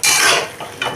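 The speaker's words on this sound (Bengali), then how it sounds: "এটাকে ভালো করে এবার কষিয়ে নেব" A papaya and soybean curry being stirred in a pan, a short burst of spoon scraping against metal followed by two softer scrapes, close and fairly loud.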